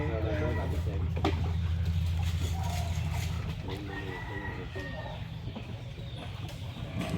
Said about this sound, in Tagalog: So, may natalaok pang manok.